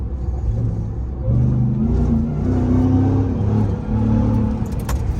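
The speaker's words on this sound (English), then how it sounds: "I want to hear the whine. That's why I got this Supercharger." A Ram TRX pickup with a supercharger accelerating at night, its steady engine drone rising in pitch with a faint whine layered on top, close and loud throughout.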